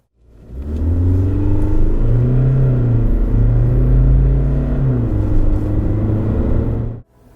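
2021 SsangYong Rexton engine revving, a loud, close mechanical drone that rises and falls in pitch through several throttle swells over a steady rumble, cutting off abruptly at the end with no talk.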